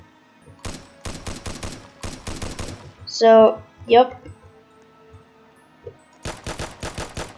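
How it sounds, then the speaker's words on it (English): Rapid bursts of gunfire from a Roblox shooter game, several quick volleys of automatic shots near and loud, separated by a brief pause with a person speaking in between. "Let me put some gun sounds real quick."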